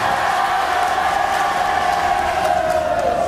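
Audience applause at a film event in Itanagar, a steady wash of clapping and crowd noise, loud and continuous with a faint tonal hum beneath.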